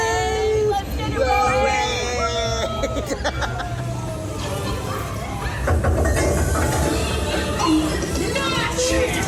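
Park train at Disney World's Hollywood Studios, a rumbling ride with rolling wheel noise and hiss amid crowd chatter and voices, fairly loud and continuous.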